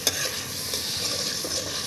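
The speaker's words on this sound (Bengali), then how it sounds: "এখন এর মধ্যে দিয়ে দিচ্ছি আদা রসুনের পেস্ট। এখন খুঁটি দিয়ে একটু নেড়ে নিচ্ছি।" Ginger garlic paste stirred with a spatula in hot refined oil in a wok for a cauliflower roast, giving a steady, close sizzle with soft scraping strokes throughout.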